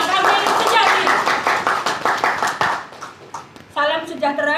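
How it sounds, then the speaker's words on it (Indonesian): Audience applause at an indoor Ramadan corporate gathering, a dense round of clapping that fades into scattered claps before a short second burst, with an announcer's amplified voice over it. "Tepuk tangan yang luar biasa untuk Royal Kamil Sejati."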